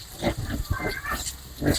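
Pigs on a small farm grunt and snort in a few short bursts, close and fairly loud, spread over a couple of seconds.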